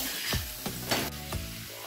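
Pieces of elephant yam fry with turmeric in a pan, making a soft, steady sizzle marked by several light clicks and scrapes of a spatula, fairly quiet and without speech.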